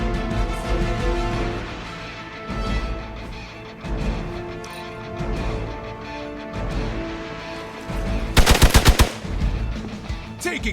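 Bursts of game gunfire from Marvel's Midnight Suns, a tight rapid volley of sharp cracks standing out near the end over a dense, busy backdrop of music and effects.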